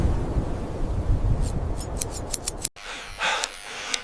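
Scissors snip through fur outdoors in a windy blizzard, giving a series of quick, crisp cuts over heavy wind roar, then a few more clipped snips once the wind drops abruptly.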